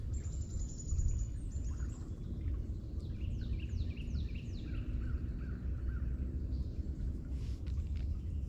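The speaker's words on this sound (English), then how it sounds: "There's actually water running into the lake right now." Water running into a lake outdoors makes a steady, low rushing wash throughout, with crows cawing and other birds calling faintly in the distance.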